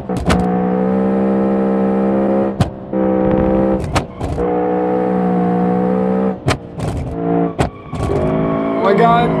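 A 12,000 RPM V8 kei car in BeamNG revs hard and steadily, a loud sustained high whine held for stretches and broken by short gaps and gear changes, with voices talking over it.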